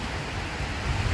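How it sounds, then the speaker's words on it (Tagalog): Strong sea waves wash and churn around a small boat at sea, a steady low rumbling surge with wind noise, continuous and fairly close. "Malakas ang alon mga kalingap"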